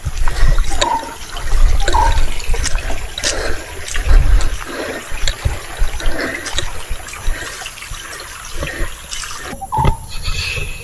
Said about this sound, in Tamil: தண்ணி ஓடுது பாருங்க